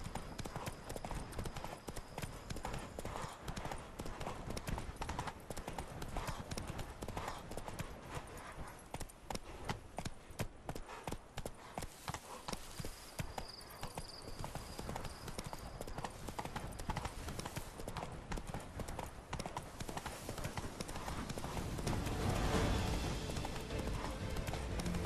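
Horse hooves gallop in The Witcher 3 as a steady, unbroken clip-clop that runs for the whole stretch, loud and close, with faint game voices now and then beneath the hoofbeats.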